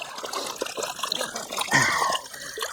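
Gold pan shaken from side to side underwater while panning river gravel: continuous sloshing, trickling water with a louder surge of churning near the end, close and steady, no talk.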